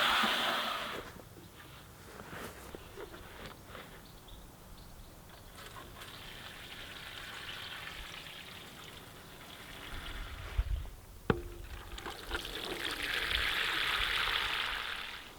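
Water pours and trickles into a watering can or bucket while organic tomato feed is mixed in a Swedish summer garden, a hissing, splashing flow that swells and fades over several seconds, with a couple of brief knocks.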